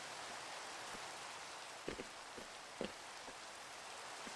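Steady rain in the Minecraft video game, an even hiss of falling drops that runs through the whole stretch, with a couple of soft thuds and clicks near the middle.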